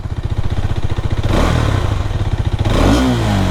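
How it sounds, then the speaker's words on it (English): A Hero Xtreme 250R motorcycle engine idles with a rapid, throbbing exhaust pulse, then revs up loudly twice, the exhaust roaring close by. "let's just hear the exhaust note too"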